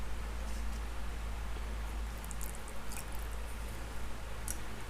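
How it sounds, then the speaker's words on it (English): Reef cement powder is worked together with cold filtered water into a dough, giving quiet, continuous wet squishing and squelching over a low background hum, with no talking. "we're just going to mix it up to create that dough-like consistency"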